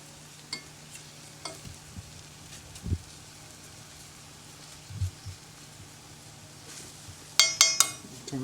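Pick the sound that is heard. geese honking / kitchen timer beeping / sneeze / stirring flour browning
stirring flour browning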